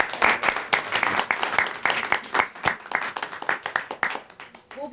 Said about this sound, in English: I'd like to end with a round of applause for Tomas